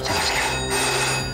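An indoor telephone bell rings loudly and continuously throughout, with no speech over it.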